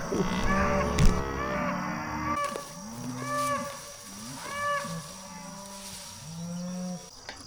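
Several Mashona cattle moo one after another, long low calls close by, with some clanking and rustling in a barn-like space between them.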